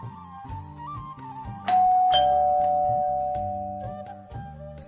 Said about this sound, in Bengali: ভেতরে গিয়ে বসা মাত্রই কলিং বেল বেজে উঠল।